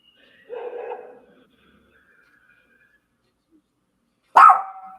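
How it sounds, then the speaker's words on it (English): Dog barking during a baseball playoff broadcast, a short bark followed after a pause of a few seconds by a second, louder bark, each heard alone against near silence. "Did you hear a dog?"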